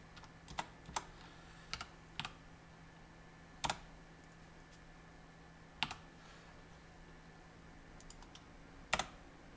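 Scattered keystrokes on a computer keyboard while working in Unreal Engine, isolated sharp clicks spaced irregularly over a quiet, low hum, close and fairly soft.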